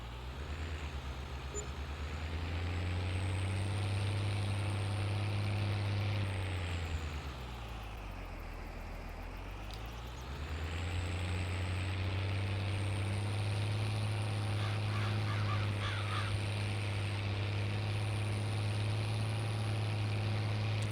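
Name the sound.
tractor engine in Farming Simulator 22 video game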